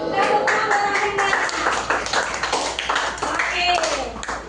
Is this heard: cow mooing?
no